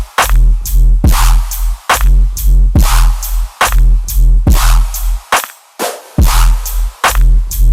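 Screech synth stabs in a bass-heavy electronic music production hit in short, choppy bursts over a pounding low kick pattern. The loud, rhythmic phrases repeat with brief gaps between them.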